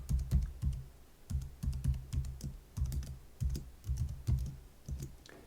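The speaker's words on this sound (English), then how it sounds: "I get to put my password in again." A password is typed on a computer keyboard, about twenty soft, close keystrokes in quick irregular bursts with brief pauses between groups.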